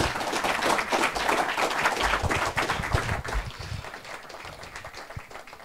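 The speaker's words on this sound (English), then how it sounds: "Let's give Bob Genetski a great round of applause." Audience applause for author Robert Genetski after a talk, moderate clapping from a room that gradually thins and fades, fairly quiet overall.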